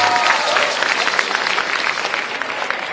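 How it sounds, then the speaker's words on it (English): A school awards audience at a spotlight ceremony claps steadily in a dense, continuous burst of applause that holds at an even level throughout. "Kindly give another round of applause to Senior Kiera Gonzalez."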